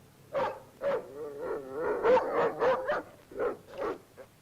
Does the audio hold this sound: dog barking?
yes